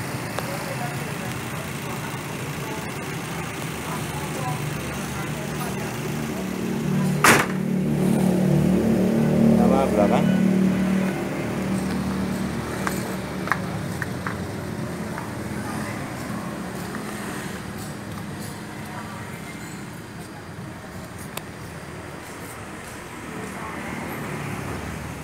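A 1997 Nissan Terrano with a 2.4-litre engine runs with a steady low rumble, swelling briefly as it revs before settling back, while people talk nearby.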